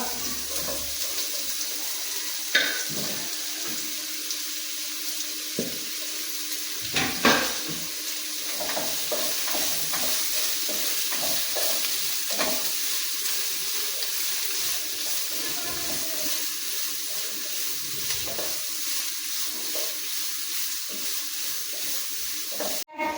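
Onions sauté in a pan for prawn biryani, a steady close sizzle broken by repeated clinks and scrapes of stirring, with occasional faint voice in the background.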